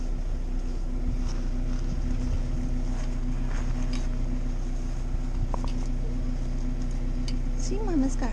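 A boat's engine drones in a low, steady, unbroken hum as the anchor comes up and the vessel gets underway, with faint background voices and wind.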